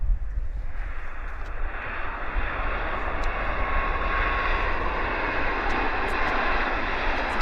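An airliner lands at Vancouver Airport, its engines giving a steady, loud roar that fills the whole stretch, with faint background sounds on top.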